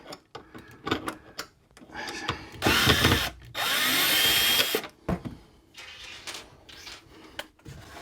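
A power drill backs screws out of camper kitchen cabinets, with short bursts of whirring and a couple of longer sustained spins, mixed with clicks, taps and handling noise close by.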